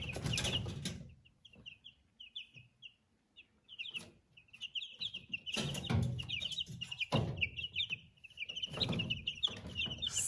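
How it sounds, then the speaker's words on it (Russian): Ameraucana chicks peep in a brooder with high, rapid chirps that carry on almost without a break. Louder bursts of scratching and rustling rise and fall among the peeps, and the sound is fairly faint overall. "Это цыплята Амераукана."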